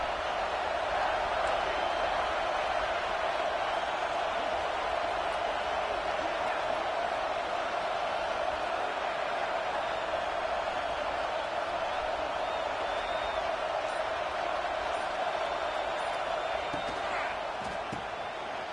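A dense, steady roar from a packed college football stadium crowd at a UCLA versus Ohio State game, continuous and loud throughout with occasional sharper thuds, while a commentator talks over it.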